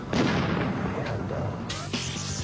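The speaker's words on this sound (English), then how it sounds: "Check out the flames given off by the blast." An explosion blast goes off with a sudden loud boom at the start, followed by rumbling noise and a second sharp burst near the end, dense and close.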